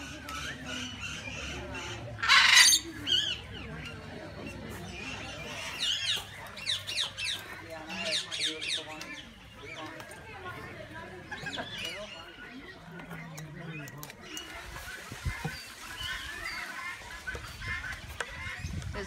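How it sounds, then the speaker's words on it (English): Exotic parrots in a walk-in aviary let out a sharp squawk early on, then scattered chirps and calls follow beneath close conversation. "There's another bird in there."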